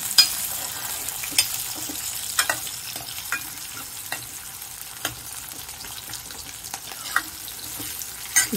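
Frying in a pan on medium gas: a continuous hiss with scattered sharp pops and spatters, close by, no voices.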